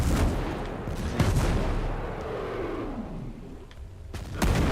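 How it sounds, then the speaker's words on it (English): Mortar strike explosions from the video game Ghost Recon Breakpoint, with booming blasts and gunfire-like bursts in a dense, continuous wash of loud battle noise, a sharp hit near the start and another toward the end. "There's that mortar strike."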